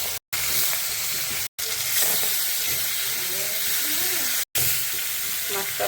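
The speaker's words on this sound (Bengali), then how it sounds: "তেল গরম হয়ে গেছে, এখন মাছগুলো দিয়ে দেব।" Pieces of rohu fish fry in hot oil in a kitchen pan, giving a steady, close, broadband sizzle that runs continuously through three brief dropouts, with faint clatter and a voice speaking now and then underneath.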